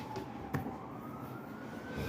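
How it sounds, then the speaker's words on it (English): An ambulance siren passes outside, a faint, distant tone that slowly climbs in pitch over a low background hum, broken by one brief sharp click. "There's this ambulance or something."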